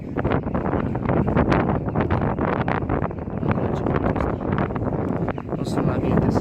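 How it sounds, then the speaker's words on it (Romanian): Strong wind blows hard across the microphone while someone cycles outdoors along a muddy route, making a loud, continuous rumbling buffet with gusty surges throughout. "Aleu, ce vânt bate,"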